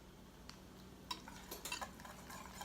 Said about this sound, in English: Then keep stirring until nice and shiny.